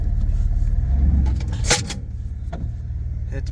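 A 1994 Ford F-150 pickup with a neutral safety switch issue running close by, a low rumbling engine idle with a sharp clunk partway through and a few smaller knocks, with no talking.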